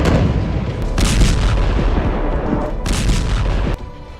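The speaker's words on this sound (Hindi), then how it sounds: "इजरायल ने सीरिया में कई सैन्य ठिकानों को निशाना बनाया," Heavy booming blasts from Israeli strikes on military sites in Syria, two loud surges of rumbling explosion noise over a continuous low roar that cuts off sharply near the end.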